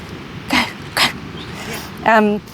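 A dog comes by during a podcast recording and gives short snuffling, breathy barks and a brief whine. It is close by, and speech can be heard faintly in the room.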